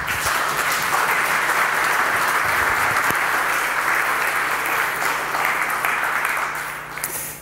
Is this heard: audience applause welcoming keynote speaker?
yes